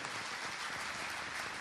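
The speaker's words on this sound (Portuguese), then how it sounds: "Aplausos, aplausos." Concert audience applauding steadily, a dense wash of many hands clapping throughout with no voices standing out.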